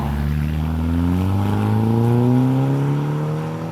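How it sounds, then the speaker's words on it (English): A slightly modified 2012 VW Golf R with a tuned exhaust and turbocharged four-cylinder engine holds a steady, loud, throaty drone that slowly rises in pitch, continuous and close, with no talking. "As you can hear right away, the exhaust out back sounds mint."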